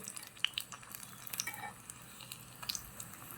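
Miniature brinjal fritters (begun vaja) fry in oil, a quiet soft sizzle with a few small sharp pops and light clinks of stirring, faint and close, no talk.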